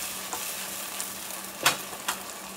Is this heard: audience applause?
no